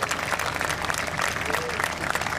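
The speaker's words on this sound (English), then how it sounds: "I'd like to another round of applause for all of the military that's on this ship" A crowd aboard a ship during a grand parade of sail applauds for the military, the clapping steady and dense throughout, with some voices mixed in.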